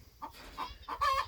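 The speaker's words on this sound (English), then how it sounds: "Oh, there's turkeys right there." Farm turkeys outdoors giving a few short, clucking calls at moderate distance, with the last call louder and more drawn out.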